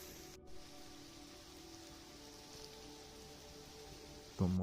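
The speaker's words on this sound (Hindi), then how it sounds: "यहाँ पे बारिश फिर से स्टार्ट हो चुकी है" Steady rain falls in hilly mountain country, a soft, even hiss throughout with a brief sharper patter near the start and a louder knock at the very end.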